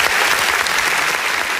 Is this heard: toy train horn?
no